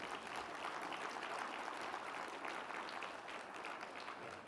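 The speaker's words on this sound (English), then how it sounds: "Give yourselves a round of applause for that." An audience at a University of Massachusetts Boston community breakfast applauds itself. The clapping is quiet, steady and even, sounds fairly distant, and holds for several seconds.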